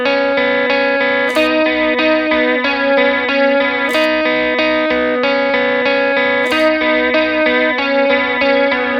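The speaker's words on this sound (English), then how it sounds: "I love the sound of that chorus." Electric guitar played through a Warm Audio WAC1 chorus pedal, a steady shimmering chorus wash over repeated chords and notes, loud and close with no talk.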